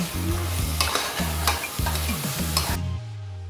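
Onions sauté in a pan for pressure cooker chicken biryani, close and loud, with a steady sizzle and repeated scraping strokes of a stirring spoon against the pan.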